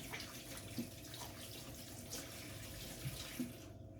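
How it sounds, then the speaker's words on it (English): Hands washed under a running kitchen tap in a home kitchen, a steady rush of water spilling into the sink for several seconds, with a few soft splashes and knocks. "Just wash the hands again."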